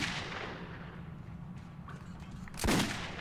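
A single sharp pistol shot cracks out in the video game Metro 2033, following a few seconds of quiet background rumble and faint scattered noises.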